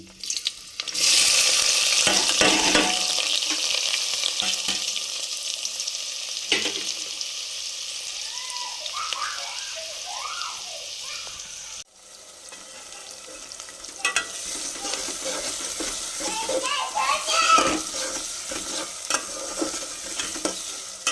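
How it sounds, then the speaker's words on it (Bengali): Chopped onion, tomato and whole garlic fry in mustard oil for a handi mutton curry. A loud, steady sizzle with stirring scrapes fills the pan, dips briefly partway through, then resumes with more clatter and scraping. "পেঁয়াজ কুচি, টমেটো এবং গোটা রসুন আমি ভালো করে ফ্রাই করে নিচ্ছি।"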